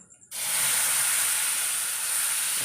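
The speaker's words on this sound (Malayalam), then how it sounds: "ഇനി പുളിവെള്ളം ഒഴിച്ച് കൊടുക്കാം" Tamarind water hits a hot pan while ginger-tamarind pickle is being made, setting off a sudden, loud, steady sizzle that hisses on without a break.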